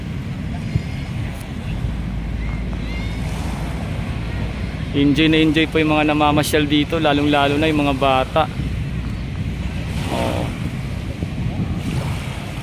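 Sea waves wash against Manila Bay's Dolomite Beach as a steady, soft rush of surf mixed with wind buffeting the microphone, while someone talks over it and other voices murmur nearby.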